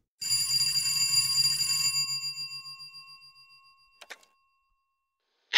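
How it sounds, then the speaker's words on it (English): An old-fashioned telephone bell ringing in a quiet room, one long metallic ring that fades away, then a brief click and the start of a second ring. "Until the phone rang."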